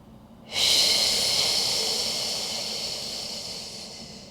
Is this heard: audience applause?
no